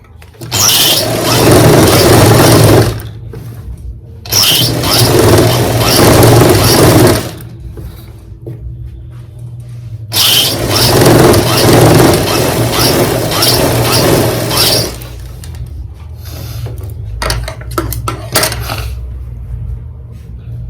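Sewing machine stitching the back piece of capri pants in three long bursts of fast, whirring stitches with quiet pauses between, followed by shorter stop-start runs, close and loud.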